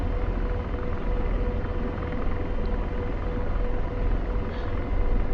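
An AH-64 Apache helicopter taxis back to its parking position, with its rotor and turbine making a dense, steady, loud roar with no breaks. No one speaks.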